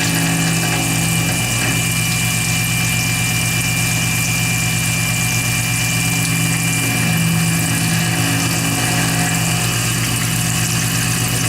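Milling machine spindle at 1100 RPM taking a shallow ten-thousandths cut through copper inlay on a knife, feeding at 15 inches per minute; a loud, steady motor hum with a whining tone runs unbroken and close, with no speech.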